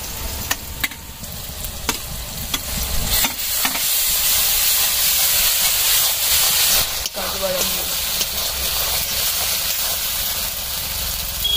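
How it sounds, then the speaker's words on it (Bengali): Ginger garlic paste fries in a pan with a steady, close, bright sizzle, punctuated by occasional sharp scrapes and taps of stirring. "আদা রসুন বাটাটা ভালো করে ভাজা হয়ে গিয়েছে"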